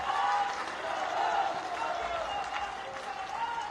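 Crowd applause fills the space, a dense steady clatter of many hands clapping, with voices mixed in underneath.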